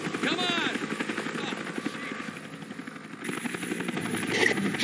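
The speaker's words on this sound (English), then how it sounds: "News chopper, right across from you." A news helicopter in the video game Dead To Rights holds a steady rotor thrum from start to finish, while voices talk over it and other game sounds come and go.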